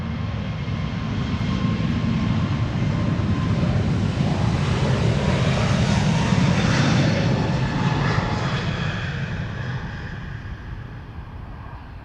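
A JetBlue Airbus A321neo departs Amsterdam Schiphol bound for Boston, its loud jet engine roar rising and sweeping close by before slowly tapering off, alone with no voices.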